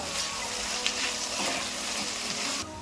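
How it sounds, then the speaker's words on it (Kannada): Chopped capsicum frying in oil in a pan with half-cooked onion, giving a steady, close hiss and sizzle with no voices. "ದಪ್ಪಮೆಣಸಿನಕಾಯಿನೂ ಎಣ್ಣೆಲಿ ಫ್ರೈ ಆಗಬೇಕು."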